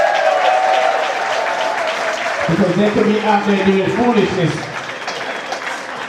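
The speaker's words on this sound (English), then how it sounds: "Can we give the young people a round of applause?" Loud crowd applause for young waiters at a gala dinner, dense clapping throughout while someone speaks over it partway through.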